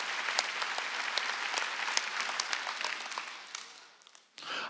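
A church congregation applauds together during a worship service, a steady dense wash of clapping that carries for about four seconds before fading, followed by a sharp noise at the end.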